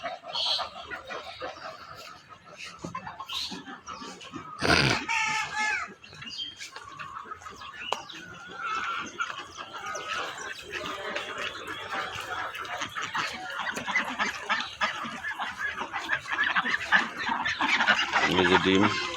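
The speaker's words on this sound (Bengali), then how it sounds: "এটা হচ্ছে হাঁসের খামার।" Ducks at a duck farm among mature laying hens, their quacks and calls mixing into a busy, continuous farmyard din with other fowl; people talk over the birds throughout.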